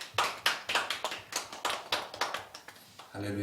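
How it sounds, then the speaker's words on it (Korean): A church congregation claps together during a Sunday worship service. The claps come as a quick run of sharp, fairly close, roughly even bursts over a few seconds, and a brief tonal sound enters at the very end. "하나님께 영광의 박수 올려드리겠습니다"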